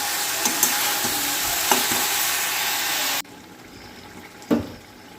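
Greens fry in a pan and get stirred, a loud steady sizzle with a few scraping knocks that cuts off abruptly into quiet, followed by one last clatter.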